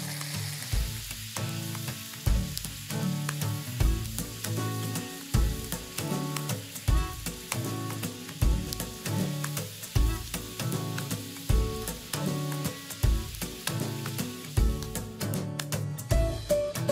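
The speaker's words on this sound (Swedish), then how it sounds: "Och jag steker i olivolja." Chicken pieces fry in olive oil in a pan, a steady close sizzle and crackle running throughout, with regular clanks and stirring noises over it and no talking.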